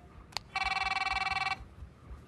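A telephone rings in a Punjabi movie scene: a single electronic ring burst lasting about a second, preceded by a brief click, with a quiet room before and after and no talking.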